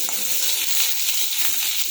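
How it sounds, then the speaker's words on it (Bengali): Potatoes frying in oil in a kadai, giving a steady, close hiss and crackle of sizzling with no talk over it. "একটার মধ্যে আলু আমরা ভাজছি।"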